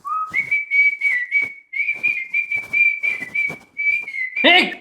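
A man whistles a long, steady high tune with a few pitch steps, sustained nearly throughout, while his rhythmic breaths and faint voice sounds break in underneath, ending in a brief louder burst.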